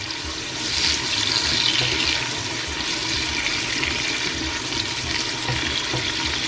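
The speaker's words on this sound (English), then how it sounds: "So now I'm adding my mixture here into it." Okra stew mixture pours and splashes into a cooking pot, a steady watery rushing and sizzling wash that runs close and continuous throughout, with no talking.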